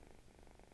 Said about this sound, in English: so sorry if you guys can hear my cat purring